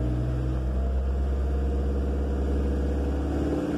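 A Peugeot Partner's engine runs steadily while the accelerator pedal is pressed during a fault diagnosis, giving a continuous low hum with no clear rise in pitch.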